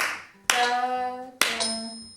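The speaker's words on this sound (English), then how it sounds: "So let me clap the rhythm for you." Two sharp hand claps spaced about a second apart, each ringing briefly in a quiet room, tapping out a simple rhythm for a music lesson.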